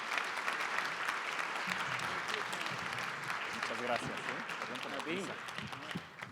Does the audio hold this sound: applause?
yes